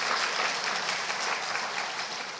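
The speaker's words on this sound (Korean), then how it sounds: "우리 축하의 박수 한번 할까요?" A congregation applauds guest choir members during a Christmas Day church service, a full, steady round of many hands clapping evenly for a couple of seconds with no talking.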